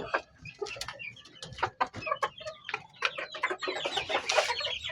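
Several Sweater Hatch gamefowl, including Ruby Gold birds about four months old, cluck and crow in a backyard, with repeated busy calls filling the whole stretch, growing louder and denser toward the end.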